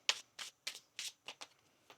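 A tarot deck being shuffled by hand, giving a rapid run of seven or eight crisp papery riffles and slaps at an uneven rhythm, close and fairly quiet with no talking.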